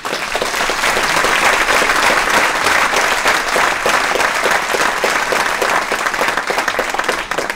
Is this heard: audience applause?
yes